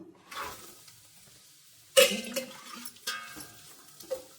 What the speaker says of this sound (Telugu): కొబ్బరి వేసి సిమ్లో పెట్టుకొని ఫ్రై చేసుకుంటున్నాను